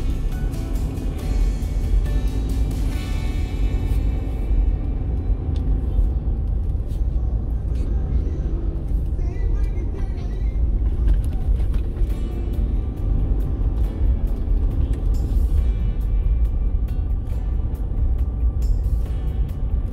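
A car drives through Pasig City streets with a steady low road rumble and engine drone throughout, and passing traffic noise rises and falls.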